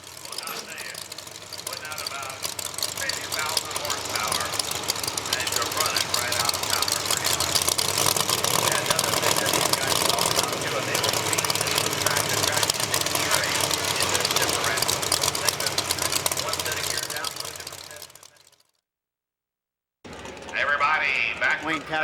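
A roughly 1,000 horsepower pulling vehicle roars at a pull-off, a loud, sustained engine drone under an announcer's voice that cuts out abruptly near the end, then briefly resumes.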